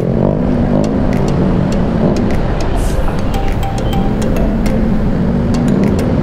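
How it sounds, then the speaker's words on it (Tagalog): Motorcycles in dense evening road traffic in Valenzuela, heard as a loud, continuous rumble of idling and revving engines close by, with scattered clicks and a voice talking over it. "Ito, puro motor dito sa Valenzuela."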